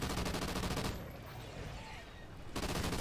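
Rapid automatic gunfire from a weapon in Call of Duty Ghosts Extinction mode, a dense fast rattle of shots before and after a brief lull filled with softer game noise.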